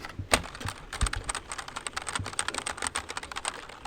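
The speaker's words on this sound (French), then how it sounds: "on a justement cet effet du coup touche mécanique avec des grosses touches comme ça" Rapid, clacky keystrokes on a mechanical keyboard, close and crisp, tapping in a continuous irregular stream with no voices.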